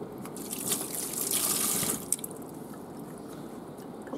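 Tap water runs in a steady hiss as freshwater crayfish are rinsed. It stops after about two seconds, leaving a quiet background with faint drips and handling.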